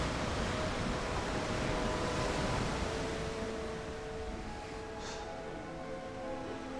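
Steady, broadband wind roar mixed with surf at Imwon harbor in Samcheok on the Korean coast, a continuous close wash of sea wind and waves with no talk.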